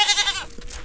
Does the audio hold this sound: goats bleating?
yes